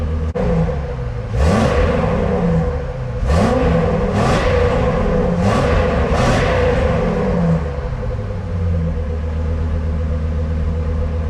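A Ford Excursion truck engine with its whole muffler cut off revs up repeatedly in four or five loud, rising bursts over a deep, steady idle rumble, then settles back to idling.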